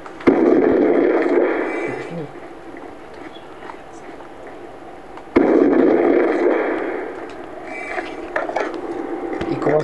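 Sniper rifle shots ring out in Black Ops 2, two loud sharp cracks several seconds apart, each trailing into mechanical bolt-action clatter, with a voice talking faintly underneath.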